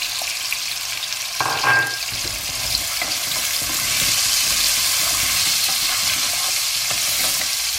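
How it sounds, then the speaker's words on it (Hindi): Potatoes fry with ginger in a hot pan, giving a steady close sizzle with stirring scrapes and clatters, and the frying swells louder after a sharp clink partway through. "अब मैं इसमें इमीडिएटली आलू डाल देती हूँ। थोड़ा सा फ्राई करते हैं, मसाले डाल देती हूँ।"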